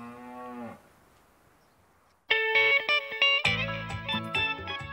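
A single long cow moo rings out on a farm, loud and close, then gives way to a burst of bright music after a short quiet gap.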